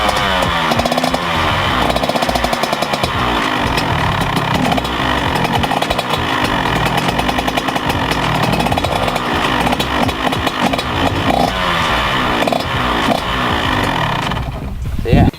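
A KTM 85 SX two-stroke motocross bike engine runs close and loud, a raspy buzzing idle with repeated blips and revs that continue without a break.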